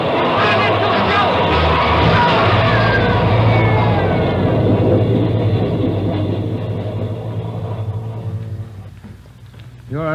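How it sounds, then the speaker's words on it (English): A subway train roars through a tunnel, a loud, sustained rumble with a metallic ringing squeal layered over it. The noise fades toward the end, and people shout over it. "There's a train coming through."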